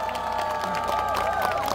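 A crowd at an outdoor trot concert during the Gimhae Hanwoo festival applauds and cheers; the clapping is soft and dense under sustained music.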